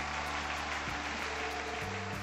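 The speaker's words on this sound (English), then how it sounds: "Let's have a big round of applause for our lovely ladies on stage." Game-world audience applauds contestants on stage in Trails to Azure, a steady dense wash of clapping running the whole time at moderate level beneath sustained background music.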